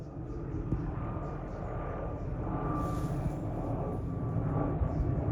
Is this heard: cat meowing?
no